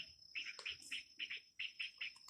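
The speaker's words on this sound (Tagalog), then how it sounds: "Hey birdie birdie. Beautiful, beautiful song." A bird sings along a hiking trail on Mt. Tupinao: a quick series of about eight bright, high chirps in an uneven rhythm, close and clear over a quiet background.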